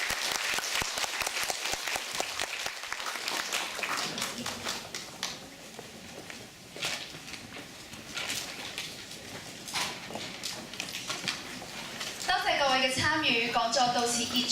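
Applause from a lecture audience at a university talk in Macau, dense patter of many hands sustained throughout, with a brief burst of talk and a chime-like tone near the end.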